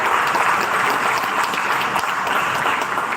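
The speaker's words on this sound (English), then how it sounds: "A big, loud round of applause" Loud, steady applause from an audience at an evening fashion ramp walk event for a silks brand, dense clapping sustained throughout without pause.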